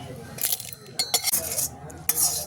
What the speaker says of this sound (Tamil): இப்போ ஜாருக்கு ஷிஃப்ட் பண்ணணும்.